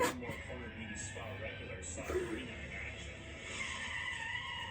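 A customer's car slides and skids outside a nail salon, tyres scraping across the pavement under steady engine noise while people talk over it.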